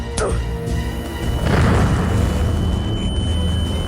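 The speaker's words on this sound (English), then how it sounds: "He then pulled out his selector grenades and switched to cluster options. He hurled it into the fray," A cluster grenade explodes in an audio drama fight inside a cave among mummies: a sharp pop, then a loud, sustained rumbling boom that swells at about a second and a half and holds to the end, with no voices.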